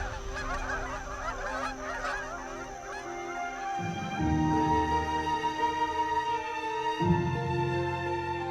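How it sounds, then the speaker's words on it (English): Migrating geese and other fowl honk in a restored Yangtze River wetland in winter, a dense overlapping chorus of calls with louder, nearer honks breaking through steadily. "the wetlands are still noisy with birds, which flew south to escape the northern winter"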